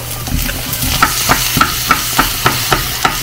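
Food is stirred in a bowl with a utensil, producing a steady rhythm of about ten clinking scrapes, close and clear.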